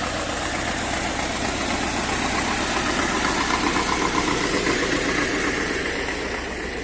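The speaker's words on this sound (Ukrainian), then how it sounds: "Зараз я хочу показати, що він робить цей культиватор." Tractor engine pulling a homemade cultivator across a field, a steady close mechanical rumble and rattle at constant speed, with no talk.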